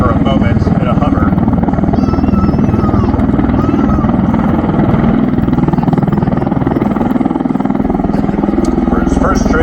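A USMC MV-22B Osprey tiltrotor hovers at the MCAS Yuma airshow. Its prop rotors give a loud, continuous throbbing roar that stays strong throughout, and an announcer speaks over it.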